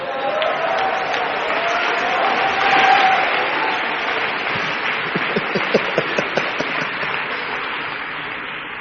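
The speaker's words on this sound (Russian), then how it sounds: "Дай аплодисменты Иисусу." Church congregation applauding during a sermon, a broad sustained wash of clapping that swells midway, with a few sharper individual claps standing out near the end.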